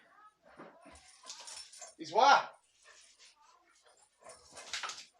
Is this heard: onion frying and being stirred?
no